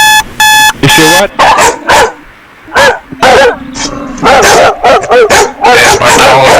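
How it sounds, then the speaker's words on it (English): A recording of a dog plays loudly, with a burst of repeated barks, yips and whimpers in an uneven rhythm, close and fairly harsh. "There's my dog. He's talking to you."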